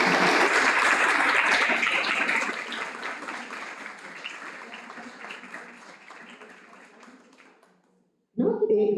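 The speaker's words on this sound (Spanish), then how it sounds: "pido un fuerte aplauso para la doctora Erika Zúñiga" An audience applauds for an honoured doctor at an academic chair event, loud and dense clapping that slowly thins out and fades before silence and then a voice begins speaking.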